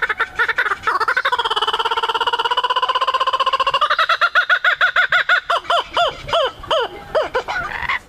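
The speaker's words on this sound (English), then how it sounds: "Laughing kookaburra." A laughing kookaburra calls loudly and close: a long rising, wavering cackle that breaks into rapid rhythmic hooting pulses, alone with no other sounds around it.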